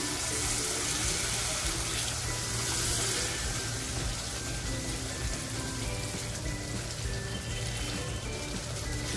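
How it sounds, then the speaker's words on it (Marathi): A little water poured into hot, oily masala for a spicy fish curry sets off a loud, dense hiss that runs unbroken and close for the whole stretch. "तेल छान बाजूला होत चाललेले थोडंसं पाणी टाकते"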